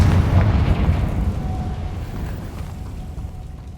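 A Confringo spell explosion in Hogwarts Legacy bursts loudly with a deep, rumbling boom that decays steadily over a few seconds, standing alone without talk.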